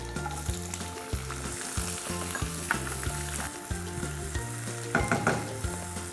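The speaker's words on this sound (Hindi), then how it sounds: "अनियंस को इवनली हमें ब्राउन करना है, कंप्लीटली ब्राउन।" Sliced onions frying in oil with cumin, cloves and black pepper for a Punjabi shahi dum aloo, a steady close sizzle with occasional stirring clatters, heard alone beneath a repeating melodic background music bed.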